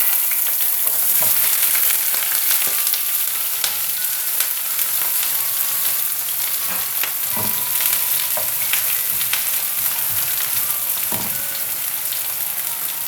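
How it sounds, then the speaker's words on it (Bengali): Half a cup of onion fries in five to six tablespoons of oil in a pan, giving a dense, loud, continuous sizzle with occasional faint stirring scrapes and no voices. "এর মধ্যে আমি হাফ কাপ অনিয়ন অ্যাড করছি"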